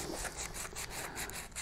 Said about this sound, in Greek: Ένα ψηλό γυαλόχαρτο και το τρίβω.